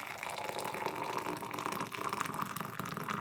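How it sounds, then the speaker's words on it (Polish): A steady stream of water runs and fills a kettle, constant and moderately loud throughout. "Już biorę czajnik, zalewam wodą."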